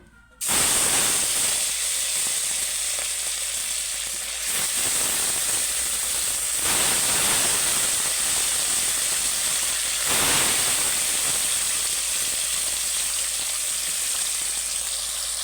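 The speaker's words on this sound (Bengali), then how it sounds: "তেলটা আমার তেতে গেছে মাছগুলো এক এক করে দিয়ে দেবো" Hot oil sizzles loudly and steadily as fish fries, a close, continuous hiss that swells briefly a few times.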